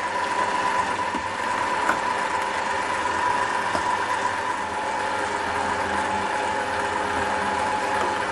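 Stand mixer turning at low speed as flour is worked into butter, giving a steady, continuous motor hum with a faint mechanical whir throughout, no voices.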